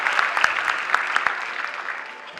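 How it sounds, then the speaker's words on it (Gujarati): An audience applauds performers at a devotional Ganesh program at a cultural event, a burst of fairly loud clapping with distinct claps at first, gradually thinning and fading. "સો એ લોકો માટે એકવાર જોરદારની તાળીઓ થઈ છે"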